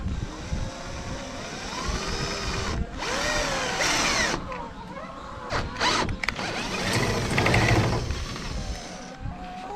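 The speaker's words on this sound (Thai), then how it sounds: "เราไม่มีดอกสว่านนะครับ เราใช้ดอกเจาะ" A power drill grinds and whines steadily into a steel plate, loud and close, with brief pauses where the bit stops and restarts.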